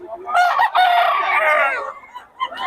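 A gamecock rooster of Boston bloodline crows loudly and close by at a busy market in Bocaue, one drawn-out crow followed by a few short clucks.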